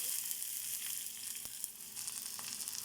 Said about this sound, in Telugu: మళ్ళీ దొండకాయల కోసం కొద్దిగా ఆయిల్ వేసుకుని దొండకాయలు ఫ్రై చేసుకోవాలండి